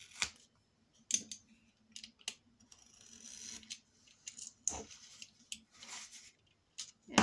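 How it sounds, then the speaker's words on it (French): Scissors snipping off excess paper along the edge of a handmade denim-covered mini album, a series of short, close, crisp cuts in irregular bursts with quiet pauses between them. "Et on coupe le surplus."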